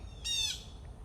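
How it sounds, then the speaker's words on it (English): One sharp, raspy squawk from a blue jay, brief and fairly loud, with quiet before and after. "That is a very noisy blue jay."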